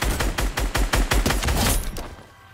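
Rapid video-game gunfire rattles off in a loud burst of about a dozen sharp, evenly spaced shots, then cuts out and trails into quiet.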